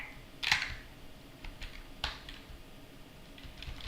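Keys on a computer keyboard clack in scattered, uneven taps, a few sharper strokes standing out, close by and fairly quiet with no talk.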